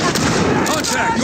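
Rapid gunfire in the first-person shooter Call of Duty: Modern Warfare, a dense burst of shots and sharp cracks packed into a short, loud moment.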